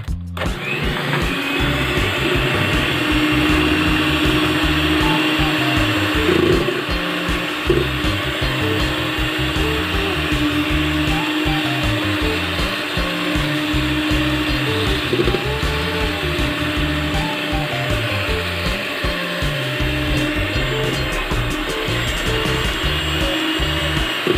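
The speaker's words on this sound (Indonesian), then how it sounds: "Susu masukkan sedikit-sedikit bergantian dengan terigu dengan kecepatan mixer paling rendah, sedikit-sedikit saja." An electric mixer runs at its lowest speed, beating milk and flour into cake batter for a steamed lapis cake. It gives a continuous, loud mechanical whir and hum without break, with no speech.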